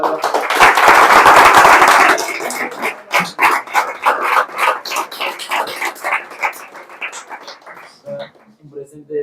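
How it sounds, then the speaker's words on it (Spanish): An audience after a talk on the papacy and the Church applauds for Pablo: dense clapping at first, then thinning into irregular, sharper individual claps, with a voice near the end. "Un aplauso para Pablo."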